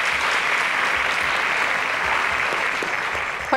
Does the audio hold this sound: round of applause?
yes